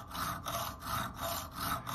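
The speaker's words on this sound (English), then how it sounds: "we're trying to file a divot in the middle of this piece of aluminium" A file rasping across a piece of aluminium to cut a divot, with steady back-and-forth strokes in a repeating rhythm, close and moderately loud with no talking.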